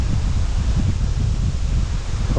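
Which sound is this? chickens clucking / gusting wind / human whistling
gusting wind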